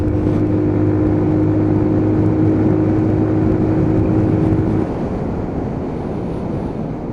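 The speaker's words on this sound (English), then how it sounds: "Taking it out the box, full throttle." A Lexmoto Titan motorcycle engine at full throttle on a dual carriageway after repair, a loud steady drone with wind rush that drops to a lower, quieter roar near the end.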